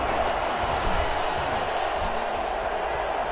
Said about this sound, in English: That just means this crowd's going to get even louder.